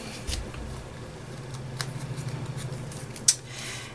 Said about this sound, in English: So I'm going to quickly just cut this around here.